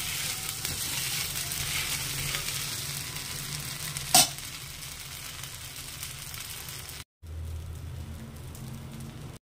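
Pongalam frying in oil in a pan while being stirred, a continuous close sizzle with soft scraping, one sharp clink partway through and a brief cut near the end.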